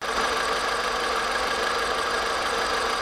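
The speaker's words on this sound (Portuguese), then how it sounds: "a gente fez o motor funcionar aqui, mas o motor está falhando, tá estranho" A rebuilt car engine runs steadily with an uneven, knocking misfire, a loud continuous mechanical drone close by with no talking.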